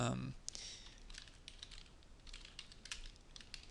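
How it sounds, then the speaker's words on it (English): A computer keyboard clatters with quick, quiet keystrokes as a folder name is typed, in short bursts of close clicking with a brief thump at the start. "Let's type a name first"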